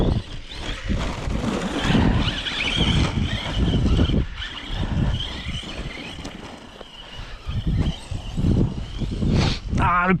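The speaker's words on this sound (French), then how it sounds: "Ah, le petit vent." Wind gusts buffet the microphone outdoors on open ground with dirt mounds, a steady loud rumbling roar that swells and dips across the whole stretch.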